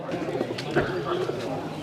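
Australian doves cooing in a cage at a weekly village market in Ullapara, soft low coos under loud market chatter and nearby voices.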